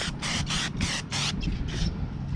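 Carburetor cleaner sprays onto ants in a series of short aerosol bursts, about five quick hissing blasts followed by a softer trailing spray, close and fairly loud with no talk.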